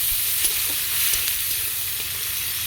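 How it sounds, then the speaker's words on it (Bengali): Chopped onions frying in oil for a Bengali chicken curry, a loud, close, even sizzle with faint hissing and a few light stirring taps. "পেঁয়াজটাকে ভালো করে ভেজে নেব।"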